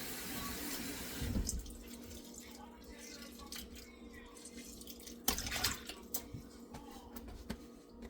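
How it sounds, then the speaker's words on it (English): Tap water runs into a kitchen sink as it is scrubbed with half a lemon, a steady close trickle with wet squishing and a few clunks of handling. "I use the other half to wash my sink and my stuff out"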